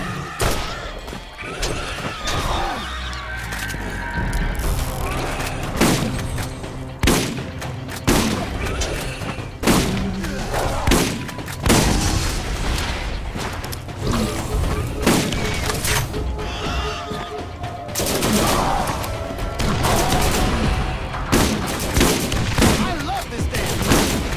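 Game gunfire in Borderlands, set in a scrapyard: rapid bursts of shots and booming impacts pile up densely over a music-like bed, with a person talking over the action at times.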